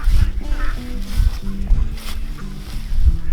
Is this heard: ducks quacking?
yes